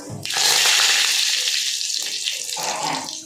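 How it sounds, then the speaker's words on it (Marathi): Mustard seeds and cumin crackle in hot oil while being tempered for a spicy ridge gourd curry, producing a loud, dense hiss and sizzle that starts abruptly and continues steadily. "एक चमचा मोहरी चांगली तडतडू द्यायचं आहे"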